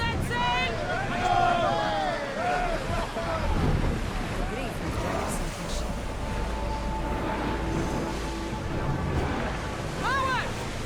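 Sea waves and wind rush steadily around a sailing ship in Assassin's Creed Odyssey, with a low continuous water roar, scattered creaks and game sound effects layered over the surf throughout.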